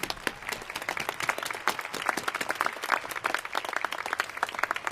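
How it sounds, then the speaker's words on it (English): Graduating class of 2011 applauds staff, teachers and administrators at a commencement ceremony, a moderately quiet but steady patter of many hands clapping in a large space, sustained for several seconds. "Please join me, class of 2011, in giving your staff here, all the teachers and administrators, a round of applause for everything they've done for you."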